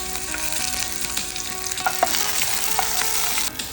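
Cumin seeds and green chillies fry in hot mustard oil with a dense, steady crackling sizzle and a few light spatula taps, close and continuous without speech.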